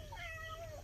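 A cat gives a single short meow, its voice rising and then falling, faint against a low steady background hum.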